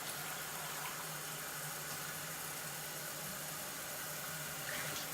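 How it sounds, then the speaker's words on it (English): Hot water runs steadily from a sink tap into a cup, a constant even hiss of flowing water with no talking. "So I'm just going to use this cup and come over to my sink, run the water till it's really hot."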